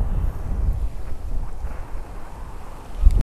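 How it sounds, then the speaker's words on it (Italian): Strong wind buffets the microphone on the beach at the mouth of the Posada river in Sardinia, a steady low roar with gusts and no voices, ending in a sharp close thump. "Come potete sentire il vento non dà scampo."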